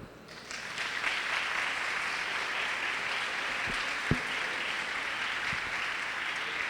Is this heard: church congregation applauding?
yes